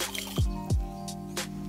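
Sunflower oil, water and sugar are stirred together in a bowl, producing soft wet sloshing with a couple of gloopy, dripping plops, close and fairly quiet with no voices.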